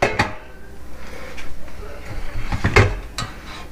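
The metal basket of an air fryer is pulled open to flip a Philly cheesesteak sandwich, giving a few sharp clanks and rattles spaced across a few seconds against quiet kitchen background.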